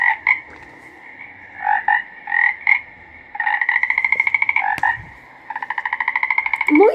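Frogs croak in a chorus of rapid, buzzy calls, with pulsing trains and short bursts repeating close by, and no voices.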